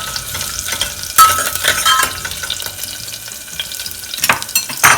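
Chopped garlic fries on a low flame in a pan for an Indian mushroom and paneer gravy, a steady close sizzle with occasional stirring scrapes and a few sharper bursts.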